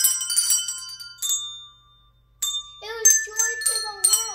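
Bright ringing handbell tones struck one after another in a halting Christmas melody, with pauses between notes and a few overlapping rings near the end.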